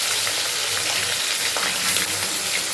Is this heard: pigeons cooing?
no